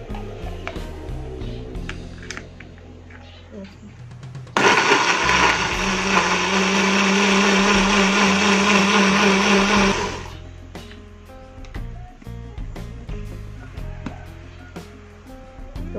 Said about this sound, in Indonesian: Dan kita tambahkan sedikit air untuk memblender.